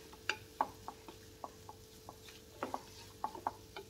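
A spoon scrapes and taps as mashed potato is stirred with spices in a pan over low heat, giving soft, irregular clicks over a quiet, faint background hum.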